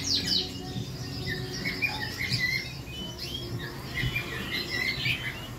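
Canaries and cockatoos kept by a breeder chirp in a continuous chorus of high tweets and short squawks, close and lively, with no talking.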